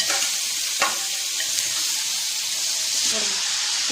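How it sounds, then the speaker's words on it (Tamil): Onions and tomato sautéing in a pan for a soup, giving a steady, close broadband sizzle with a few short stirring scrapes and clinks throughout. "இப்போ நல்லா வதக்கிக்கோங்க. வெங்காயம் நல்லா வதங்கினதுக்கப்புறம் தக்காளி ஆட் பண்ணிக்கோங்க."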